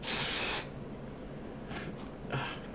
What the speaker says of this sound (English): So it does spray.